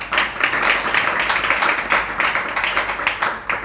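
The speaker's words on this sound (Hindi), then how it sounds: "ताली क्यों बजा रहे?" An audience at a religious discourse claps together, a steady, loud patter of many hands that runs the whole time and rises and falls in waves.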